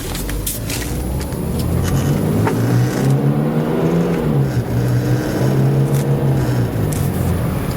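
A 1993 Mercedes-Benz 190E Limited Edition W201 sedan drives along with a steady engine hum that rises and dips in pitch through gear changes, loud and close throughout, with no talking.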